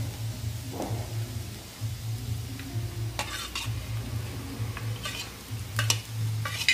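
Onions and green chillies frying in oil, a steady soft sizzle with intermittent stirring clinks and scrapes of a utensil against the pan, close and continuous throughout.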